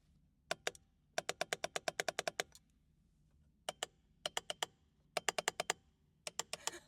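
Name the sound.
clicking magnetic paddle shifters in a BMW G80 M3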